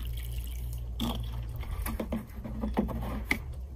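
Lukewarm water from a half-cup measuring cup trickles and splashes into a plant pot of borage, with soft, irregular drips and patters over a low steady background hum.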